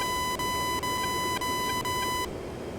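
Steady electronic beeping in the flight simulator DCS: a sustained high tone with regular short pulses, loud and close, cutting off abruptly near the end, with no talking.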